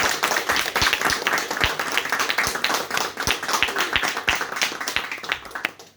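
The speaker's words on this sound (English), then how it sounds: "A big round of applause to all the EC members." Audience at a farewell ceremony applauds the executive committee members, a steady wash of many hands clapping with a few sharp, close claps standing out.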